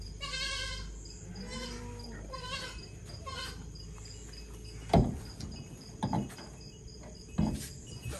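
A goat bleats outdoors in Pakistani Punjab, several wavering calls close by near the start, followed by scattered thumps and knocks and steady insect chirring in the background.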